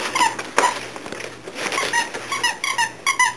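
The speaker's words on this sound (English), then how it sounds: "Did you find a squeaky toy?" A dog chews a squeaky toy in a tunnel, producing rapid, repeated high squeaks in irregular bursts close to the listener, with soft rustling and patter between them.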